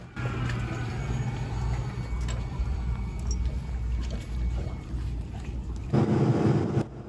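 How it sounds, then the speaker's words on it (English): A yacht's small tender boat motors across open water toward an island, its engine droning steadily under wind buffeting the microphone, with a louder burst of wind and water rush near the end. "This is the boat that we use to get to and from the island."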